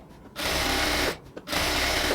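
A sewing machine stitches close along the fabric edge of a salwar pant, running in two steady bursts separated by a short pause, loud and close with no talk.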